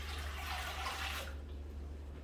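Water is poured into a pot with white vinegar for a jalapeño pickling brine. The pour is a faint splash lasting just over a second, then stops, leaving quiet background hum.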